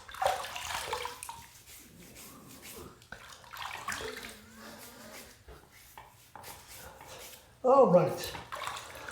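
Water running from a tap to wet a head before a Gillette Skinguard shave, a steady splashing flow under intermittent talk, ending in a louder burst of splashing.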